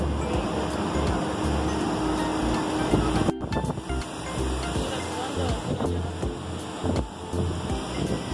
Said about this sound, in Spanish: Por acá el mar estaba demasiado fuerte, así que no decidimos no entrar ni acercarnos.